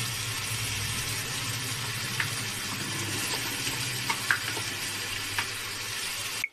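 A paste of pointed gourd peel sizzles steadily in a pan alongside tomato and onion paste, a constant close frying hiss broken by a few faint pops and clinks.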